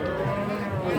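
Cow at the Tuban cattle market, a pregnant Pegon-type cow that has calved about three times, lowing in a steady, moderately loud moo that holds for about a second amid busy market noise.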